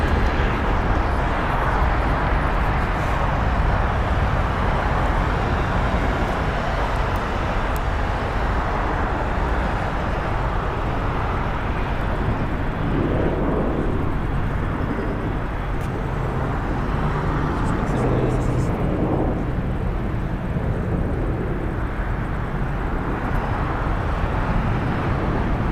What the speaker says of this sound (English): Departing here is Alaska Airlines flight 440 going to Cancun. It's an Airbus A321neo.